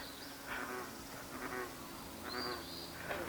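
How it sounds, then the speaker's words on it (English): Deep croaking calls from bullfrogs repeat every second or so, fairly faint against steady outdoor ambience with insects buzzing. "you could probably hear some of those bullfrogs going right now because they're pretty loud at the moment."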